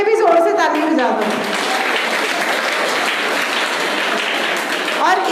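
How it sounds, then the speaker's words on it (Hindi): A group of schoolchildren at a Harela festival event in India claps loudly together, with dense continuous applause that swells, holds for several seconds and then fades with a few voices underneath. "तो एक बार अपने लिए भी जोर से ताली बजा दो।"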